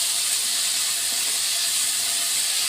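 Pumpkin stir-fry sautéing in a pan, a steady close sizzling hiss that runs unbroken from start to finish with no talk.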